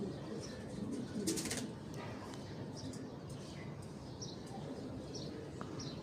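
Home-bred baby pigeons coo softly in the background, with faint intermittent chirps and coos scattered over a steady low ambient hum, moderately distant and quiet throughout.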